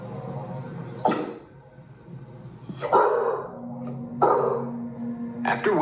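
A dog in a house barks in sharp single bursts, three or four loud barks spaced a second or more apart, close by with a quiet indoor background and no speech.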